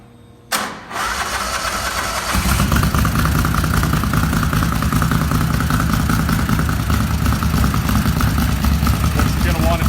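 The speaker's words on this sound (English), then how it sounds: "start up the motor" A Mud Buddy outboard boat motor cranks with a sharp start and then runs at a steady, rumbling idle close by, the engine note holding even for the remaining several seconds.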